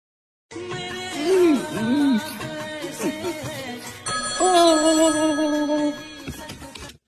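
A phone ringtone plays a loud, close electronic melody of sliding and sustained tones for several seconds on its own.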